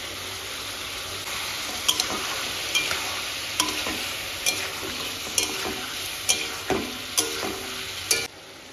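Meat sizzling in a pan with raw onion stirred in, a steady frying hiss punctuated by regular sharp clacks of the spoon against the pan, close and without talk.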